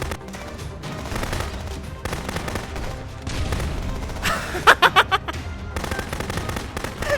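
Gunfire rings out in the video game Contraband Police: scattered shots and rumbling blasts, then a quick burst of four or five sharp, loud reports close together, over a busy game soundscape.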